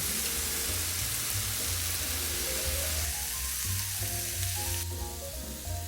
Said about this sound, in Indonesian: olesi wajan dengan minyak kelapa, lalu panggang di atas wajan